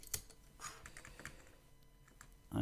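The plastic keys of a Commodore Amiga 500 keyboard are pressed in a quiet, irregular series of close clicks and taps, with a heavier thump at the end.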